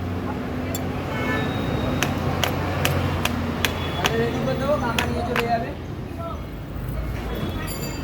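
A screwdriver taps repeatedly on a new electric motor laid on its side, sharp metallic knocks at a fairly regular pace, while people talk nearby over a low background hum.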